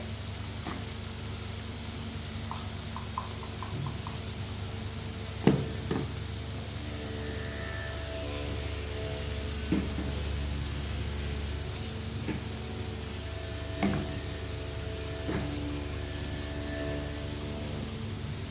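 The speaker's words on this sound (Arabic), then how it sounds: "الفول اتشوح بالبصل اهو" Fava beans sauté with onion in a pan with a continuous, even sizzle and patter. Occasional light clinks and scrapes of stirring come through, and nobody talks.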